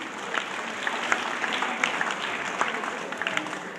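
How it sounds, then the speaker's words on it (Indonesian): An audience in a church gathering applauds steadily, with dense, moderately loud clapping that continues throughout. "Kita beri aplaus dulu."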